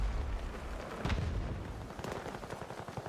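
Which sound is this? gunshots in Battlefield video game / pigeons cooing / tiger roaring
gunshots in Battlefield video game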